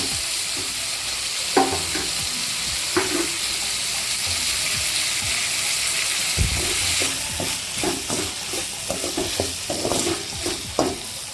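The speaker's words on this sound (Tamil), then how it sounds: "தக்காளி சேர்த்துக்கலாம். தக்காளி கொஞ்சம் வதங்கிட்டு" Tomatoes sautéing in a pan for Tamil egg drop curry (muttai kuzhambu), a steady sizzle under repeated scraping stirs with a spoon, louder clusters of strokes toward the end, no talking.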